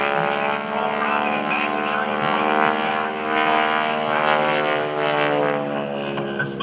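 Blue Angels aerobatic airplane performing at the 2012 Blue Angels Homecoming Airshow, giving a loud, sustained droning engine roar with a steady pitch that swells slightly as it passes, carrying across the open air.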